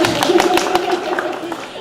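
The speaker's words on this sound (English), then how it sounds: "he deserves a round of applause" A room of workshop attendees claps in a quick, uneven patter of sharp hand strikes, moderately close, with speech running underneath throughout.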